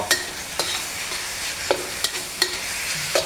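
Pork stir-frying with green sauce in a hot pan for a quick holy basil dish, with sharp spatula clacks and scrapes landing irregularly over a low sizzle, close and fairly loud, with no one speaking.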